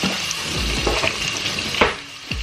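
Onions sizzle in a pan for a Bengali fish curry, a close, steady frying hiss broken by a few soft stirring scrapes and thumps.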